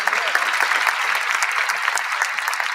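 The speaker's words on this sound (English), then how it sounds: "Let's give him a round of applause" Steady applause from a crowd at a university convocation, a dense, even clatter of many hands clapping throughout.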